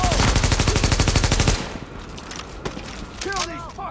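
Rapid automatic gunfire in the video game The Division, a fast, even burst of loud shots for about a second and a half, then scattered distant shots and shouting voices.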